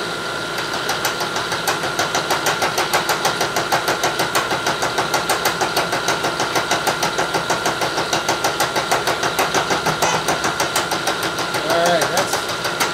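Steady, loud metallic chatter and drone of a lathe taking a full-depth cut while squaring stock for a knurling tool holder, running continuously with a slight change near the end.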